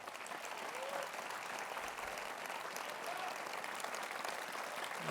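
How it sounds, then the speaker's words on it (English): Warm applause fills a school commencement hall for a graduating class of 2023, a dense, even wash of clapping from a distant crowd that holds steady without pause. "Let's please give a round of warm applause for Mr. Jonah Canty, right here."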